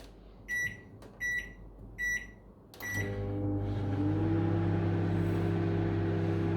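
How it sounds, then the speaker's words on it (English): A Contempo microwave oven is set to defrost: three short, bright keypad beeps and one more, then a steady low electrical hum with a whirring fan as it starts running. "This is a very smart microwave"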